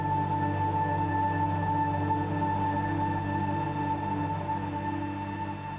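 A sustained synth note played on a ROLI Seaboard Rise 2, a steady layered tone that holds at a constant level throughout with a slight fade near the end, alone with no talk.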